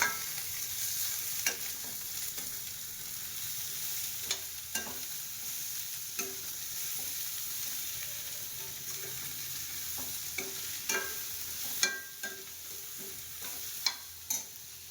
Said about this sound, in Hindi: थोड़े जो बेसिक से मसाले इसमें डलेंगे प्याज और टमाटर की ग्रेवी के साथ, वो हमने तैयार कर ली है। तो करते हैं फ्राई